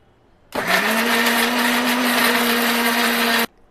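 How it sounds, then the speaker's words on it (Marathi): A mixer grinder grinding spice paste for chhole masala starts abruptly and whirs loudly at a steady pitch for about three seconds, then stops sharply. "आता हे बघा मी मिक्सरला फिरवून घेते सर्व वाटण"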